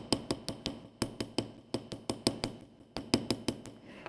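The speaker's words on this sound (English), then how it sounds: "I can come over the large dimples with the small, and over the small with the big." Steady series of sharp metal-on-metal hammer strikes texturing jewelry metal, mixing small and large dimple patterns, close and ringing with a quick regular rhythm, about four blows per second with no talking.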